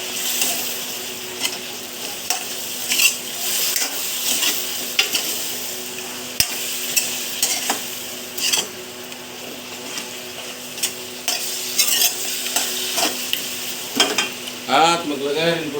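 Pork spare ribs with a splash of soy sauce are stirred in a pan, a steady sizzle with repeated scraping and clattering strokes of the utensil, close and moderately loud, with a brief ringing sweep at the end.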